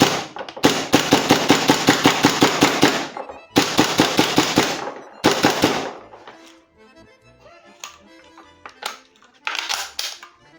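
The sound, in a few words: airsoft gas blowback rifle (GBBR) rapid firing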